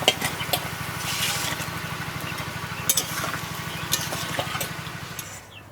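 Koi fish going into a simmering spiced curry with boiled potatoes, a continuous bubbling sizzle with a low pulsing rumble underneath and a few sharp clinks, close and unaccompanied by speech.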